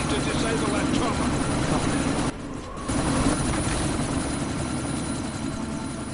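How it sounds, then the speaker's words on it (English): A helicopter hovers in Deus Ex Mankind Divided during a sandstorm, its rotor thrum loud and continuous with one brief drop halfway, while faint voices sit underneath. "you need to disable that chopper"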